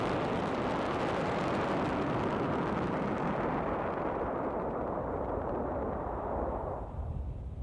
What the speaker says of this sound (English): And there we have the landing burn where engine 9 has relit right before touching down on the landings at landing zone 4